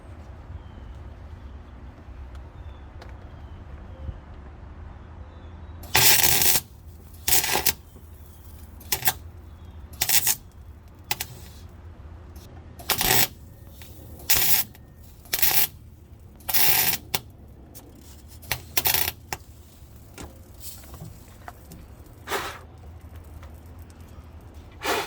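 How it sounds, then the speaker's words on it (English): A MIG welder welds a nut onto a broken bolt in a personal watercraft hull, with repeated short bursts of harsh buzzing crackle, each lasting about a second and separated by brief pauses, loud and close. "grab the MIG welder out"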